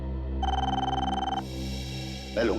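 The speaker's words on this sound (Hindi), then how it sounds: "मैं लूंगा फोन।" A telephone gives one short, bright electronic ring of about a second over a low, sustained musical drone.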